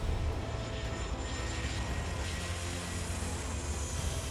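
A jet airliner passes low over the beach at Princess Juliana International Airport on Saint Martin, a steady loud engine roar sustained throughout with no voices.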